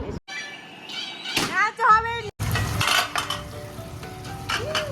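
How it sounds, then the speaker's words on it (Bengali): Masala for a chicken roast, with cashew, poppy seed and pistachio, stir-fried in a pan: metal scraping, clinks and a soft sizzle run under a voice, with a brief silence partway through. "আমার চিকেন রোস্টের যত যা মশলা লাগে সব দিয়ে মশলাটা কষিয়ে নিচ্ছি এখন ভালোভাবে"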